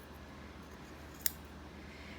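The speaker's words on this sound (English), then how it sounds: "you can always just use a pair of scissors" A pair of scissors makes a single quick, crisp snip through quilt fabric, heard alone against a quiet background hiss.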